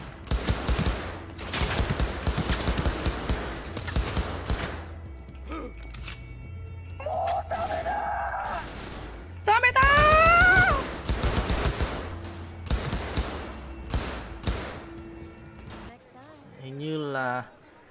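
Rapid bursts of loud gunfire in the video game Cyberpunk 2077 dominate the opening seconds, then give way to talking, chirpy electronic game tones and further short volleys, with a voice speaking over much of it.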